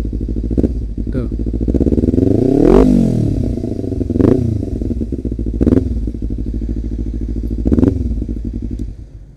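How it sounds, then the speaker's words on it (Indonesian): Kawasaki Ninja 250 Special Edition with a replacement ZX Racing-style handle, its engine revving in several sharp, loud blips over a steady idle, with a long swelling rev near the start and faint voices in the background. "Jadi begitu suaranya."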